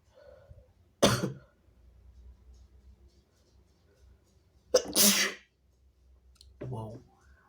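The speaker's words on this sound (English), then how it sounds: "I sneezed on you." Three loud, forceful human sneezes burst out one after another a few seconds apart, close up, with quiet background between them.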